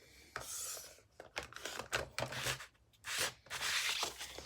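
Scissors or a trimmer cutting card to size for a handmade Christmas card, heard as short raspy cutting strokes in quick succession, close and fairly quiet.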